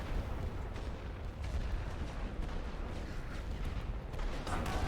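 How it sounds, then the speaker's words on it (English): Continuous rumbling artillery bombardment on French troops in a World War I strategy game, dense overlapping booms and low thuds rolling steadily throughout at a loud, even level. "We'll drop those French with artillery"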